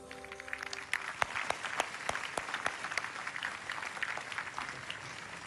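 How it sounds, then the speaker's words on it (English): An audience at an award ceremony applauds steadily, a dense wash of clapping with a few sharp louder claps near the front and no talking. "Let's have another round of applause"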